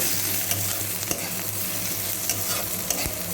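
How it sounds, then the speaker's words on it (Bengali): Onions sizzle and fry in a pan with salt and turmeric, a steady crackling hiss with occasional stirring scrapes, alone and close. "এইভাবেই পুরোটা ভেজে নেব"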